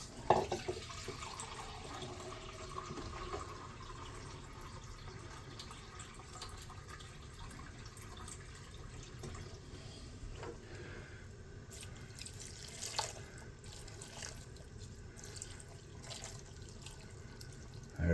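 Tap water runs faintly into a measuring cup while soup is being made, a quiet, even stream from the faucet that continues steadily in the background with an occasional soft clink.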